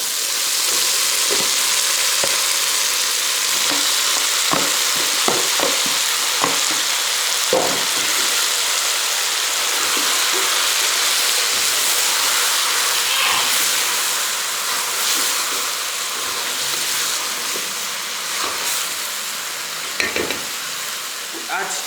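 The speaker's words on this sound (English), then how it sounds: "And then we cook until soft, until tender, for like 2 or 1 or for 2-3 minutes." Tomatoes and tomato peels cooking in a pot while pumpkin soup is made, a loud, steady sizzle and hiss broken by brief scraping stirs, with no talking.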